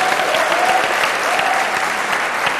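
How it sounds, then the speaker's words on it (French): A studio audience at a televised youth singing competition applauds loudly and steadily, a dense, continuous wash of clapping with a faint tonal voice or whistle drifting through early on. "Des applaudissements pour vous,"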